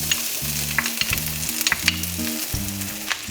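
Garlic frying in a pan while pasta sauce is started, giving a loud, steady close sizzle with crackles and a few stirring scrapes, and no talking.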